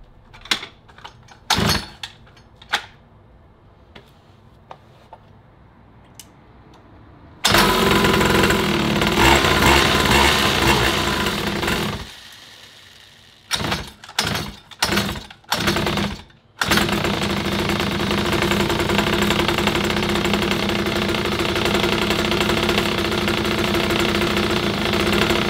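Chinese motocross bike engine cranked several times with brief bursts, then catching and running steadily at a loud, fast idle without choke, close up, with a few short revs in between.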